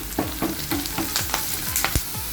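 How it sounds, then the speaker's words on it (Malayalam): Green chillies and curry leaves sizzle in hot oil in a pan while being stirred, with repeated scraping strokes of a spoon over a steady frying hiss, close and moderately loud, during a mutton roast recipe. "ഇതിലേക്ക് നമുക്കിനി പച്ചമുളകും കറിവേപ്പിലയും ഇട്ട് കൊടുക്കാം. നല്ലോണം അങ്ങ് മിക്സ് ചെയ്ത് കൊടുക്കാം."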